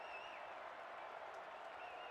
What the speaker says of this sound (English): this Virginia crowd at John Paul Jones Arena makes the most noise it's had so far in this first half